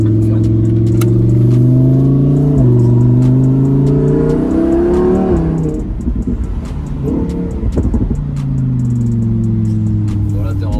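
Lamborghini Huracan police car in sport mode revs its engine in rising surges that fall back, with a brief pause before another climbing rev; the exhaust is loud and close, and someone talks over it.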